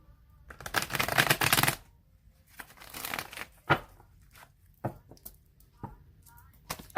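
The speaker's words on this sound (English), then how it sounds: "I'm going to shuffle it 3 more times" A deck of tarot cards is shuffled by hand: a long, dense riffling burst, then a few shorter shuffles with sharp card snaps and pauses between them.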